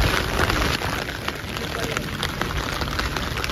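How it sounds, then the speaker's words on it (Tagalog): Rain falls steadily at Lake Molveno in Italy, a dense continuous patter on nearby surfaces with faint background sound. "Inabot kami ng ulan."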